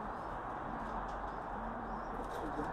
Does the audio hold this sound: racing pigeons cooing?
yes